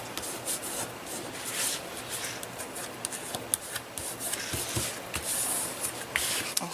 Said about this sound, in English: And then I do my bone folder on it. And I fold it over.